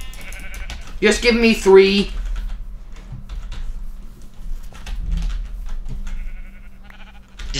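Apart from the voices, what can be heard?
sheep bleating in the video game Minecraft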